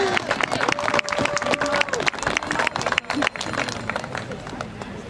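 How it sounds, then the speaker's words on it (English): A crowd applauds at a senior football night, dense sustained clapping filling the space with voices mixed in. "How about a big round of applause?"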